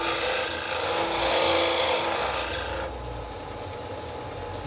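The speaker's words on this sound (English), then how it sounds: "Bring the chisel straight in and then just pivot" A chisel cuts wood turning on a Shopsmith lathe with a steady, rasping scrape for about three seconds. The cutting then lightens, leaving the softer hum of the spinning lathe.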